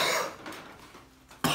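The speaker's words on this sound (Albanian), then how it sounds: "U kolla." A person coughs a few times in quick succession, close to the microphone and with no talk, while eating very spicy spaghetti.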